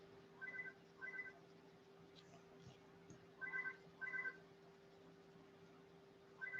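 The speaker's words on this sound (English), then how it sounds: "It's just my house phone" A house phone trills in short paired electronic bursts, ringing twice and then again, faint and somewhat distant in a quiet room.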